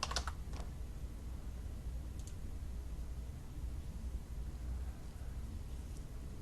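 Rapid, quiet keystrokes on a computer keyboard as a program name is typed in, a few sharper clicks at the start and near two seconds over a steady low background hum.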